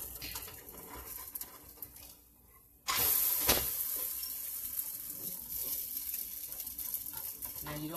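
An oat pancake with vanilla is flipped in a hot pan, a brief scrape and soft thud followed by a loud, steady sizzle of frying batter that carries on to the end.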